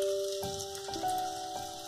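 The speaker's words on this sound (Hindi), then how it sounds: "हम थोड़े और पकौड़े डाल के तल लेंगे।" Paneer pakoras deep-fry in hot oil with a soft, steady crackle and sputter of small popping bubbles. The sound is fairly quiet and continuous, with faint tones running underneath.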